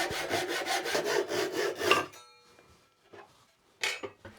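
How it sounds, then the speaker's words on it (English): Hand saw strokes rasp steadily through ash wood held on a bench hook in a quick rhythm for about two seconds, then stop, followed by a few faint knocks and a short scrape. "this is the first time using the bench hook, sawing this piece"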